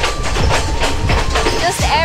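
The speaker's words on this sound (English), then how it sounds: "It's such a beautiful train ride." Onboard the Blue Train between Kandy and Ella in Sri Lanka, the carriage rattles and clatters loudly with rhythmic clickety-clack and brief squeals, a continuous close ride noise.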